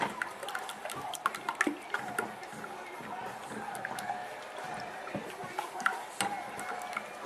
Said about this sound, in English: Just constantly keep whisking it.